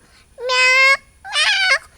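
A cat meows twice indoors in a quiet house, two loud drawn-out close calls separated by a short pause, with no talking.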